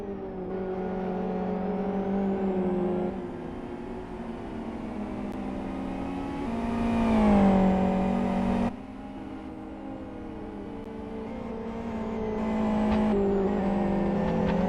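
Race cars circuit a track during a 24-hour endurance race, their engines droning and shifting pitch as they pass by, with a louder surge in the middle, heard steadily without any speech.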